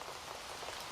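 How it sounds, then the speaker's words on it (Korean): Steady rain pattering on a surface, a dense continuous hiss of countless drops with no pauses, close and even in loudness throughout, no voices. "이런 빗소리를 들으면 잠이 잘 오는 것 같아요."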